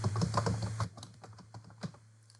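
A name typed on a computer keyboard: a quick burst of close key clicks, denser at first and then a few scattered taps, over a low steady hum.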